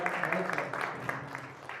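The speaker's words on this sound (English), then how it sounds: "can you please give a round of applause to Neo?" Steady audience applause at a youth program gathering, a dense patter of many hands clapping continuously, with voices talking over it.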